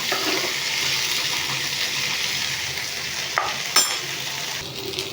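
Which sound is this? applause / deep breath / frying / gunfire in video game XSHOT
frying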